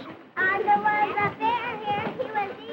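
A noisy classroom full of children chattering and calling out at once, voices overlapping constantly at close range.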